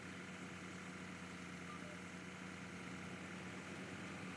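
Steady, continuous drone of a tractor engine idling in Farming Simulator 25, a low, even hum with no pauses and no voices.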